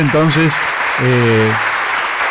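Applause for the radio operators in a radio studio, a steady wash of clapping running beneath a presenter's voice throughout.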